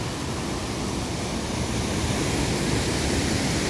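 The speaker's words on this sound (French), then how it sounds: "Regardez un petit peu la cascade, comme elle est magnifique." Steady, dense roar of a waterfall at Navacelles, broadband and constant, close by with no pauses or voices.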